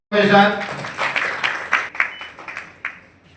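An audience at an award ceremony during a green energy seminar claps in a brief burst that starts abruptly, peaks, then thins into scattered, fading claps.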